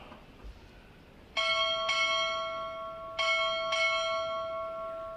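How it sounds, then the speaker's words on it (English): A ship's bell struck four times at a Navy Recruit Training Command graduation ceremony, ringing as two paired double strokes with long ringing decay, clear and alone in a quiet hall. "Time orderly, strike 4 bells."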